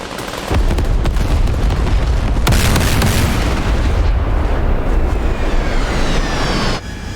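An aircraft attack run in the DCS combat game sets off a long, loud, continuous barrage of explosions and rumbling fire with sharp bursts at the start, easing off near the end.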